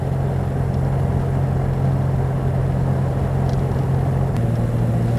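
A 1936 Riley Kestrel 15/6 motor car drives along with a steady, low engine drone and rumble, the tone shifting slightly near the end as the engine note changes, heard from inside without any talking.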